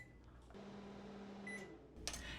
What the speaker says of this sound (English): pop it into my microwave for 2 minutes on high